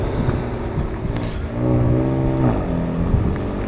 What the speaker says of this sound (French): Elle est très musclée hein, cette M4, hein. Écoutez cette sonorité là.